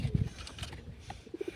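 Pigeons in a village loft coo softly, with a few low throaty coos at the start and a short burst of soft calls near the end, close by and quiet.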